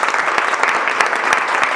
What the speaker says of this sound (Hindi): एक बार ताली बजाओ अपने घर वालों के लिए